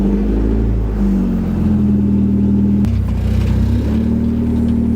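A car engine, from a Honda-bodied El Camino project still missing its seat, runs steadily while driving, with a continuous low rumble and mild pitch shifts, close and loud, with no talking.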